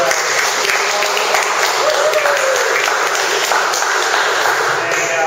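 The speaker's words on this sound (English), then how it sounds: "Let's give a round of applause right here for" Loud, continuous applause fills a hall as a crowd welcomes a speaker at a secular society gathering, a thick, steady roar of many hands with no pauses.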